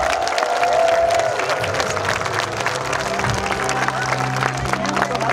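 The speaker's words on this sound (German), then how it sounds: "Gebt ihm einen Jubel und ein Handgeklapper." A crowd cheers and claps at a knights' tournament at Königstein Castle in the Taunus, a steady dense roar of applause and voices that fills the whole stretch.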